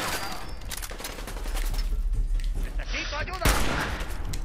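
Gunfire in the video game Fallout 4, sniper shots among them, rattles in dense bursts with a sharp report near the end, over game noise and a voice talking in the background.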